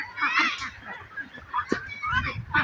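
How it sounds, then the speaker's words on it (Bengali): Two-month-old ducks quacking and honking in a busy cluster, several birds calling over one another at close range, with a short sharp call near the middle. "এখানে হাঁসা আছে কিছু, এই যে বড়গুলা"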